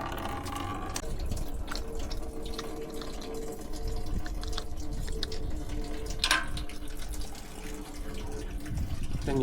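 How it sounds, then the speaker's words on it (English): Coolant dripping from the opened radiator drain plug of a Jeep Wrangler into a bucket below, a steady patter of small drips over low background hum, no talking. "All you do is twist it and the coolant starts to drip."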